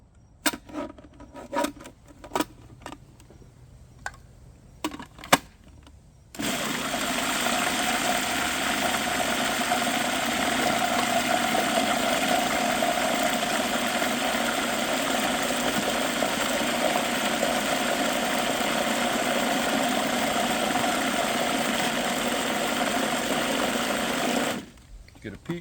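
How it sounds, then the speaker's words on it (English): A blender whirs through bone marrow, bacon, garlic, granulated garlic and dried thyme for a compound butter, a loud steady motor drone running about 18 seconds after a few clicks and clatters, then stopping. "Then we're going to get this all blended up"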